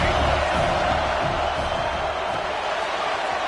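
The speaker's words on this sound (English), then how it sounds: "the crowd really getting into it" A football stadium crowd roars and cheers on third down, a broad steady wash of massed voices and noise sustained throughout at high level, with no single voice standing out.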